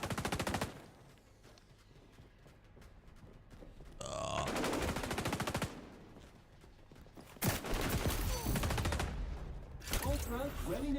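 Rapid automatic gunfire from a gun in XDefiant, loud close bursts of sustained rattling fire separated by short quieter gaps, repeated several times.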